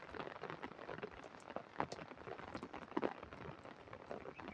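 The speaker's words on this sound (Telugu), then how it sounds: "వాన వస్తూనే ఉంది." Steady rain falls over a house in a hill village ringed by hills, a dense even patter with a few louder drops and splashes, no voices.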